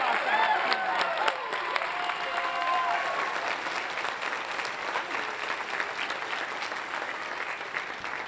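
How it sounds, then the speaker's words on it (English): Dense applause from a large outdoor crowd at a university commencement class day ceremony, a steady wash of many hands clapping for several seconds at moderate loudness, with a few brief voices and whistles at the start. "A big round of applause for our House representatives for all their hard work helping us foster House community."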